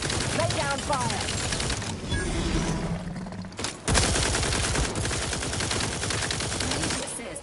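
Dense bursts of gunfire in the video game Outer Worlds 2 on very hard difficulty, with sustained rattling shots that pause briefly, then resume loud and continuous.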